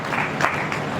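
Listeners at a Hindi poetry recitation in Sabalgarh break into applause: a brief, dense burst of crowd clapping, fairly loud and continuous for about a second.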